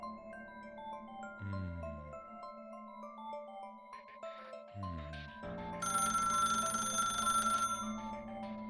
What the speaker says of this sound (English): Suddenly, Yagunuma's phone rang.